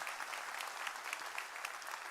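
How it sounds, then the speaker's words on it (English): Audience applause at a Brevard County Sheriff's Office awards ceremony, honoring a member of the Sheriff's Office: a steady, even wash of many hands clapping, fairly quiet and distant, with no talk over it. "So big round of applause for Jay from the Sheriff's Office"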